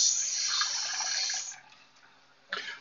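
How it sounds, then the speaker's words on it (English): Water poured into a pan of Tuscan-style grouse pasta sauce while cooking, a steady hissing pour for about a second and a half, then a pause and a brief second splash. "we're going to add in a little bit of water"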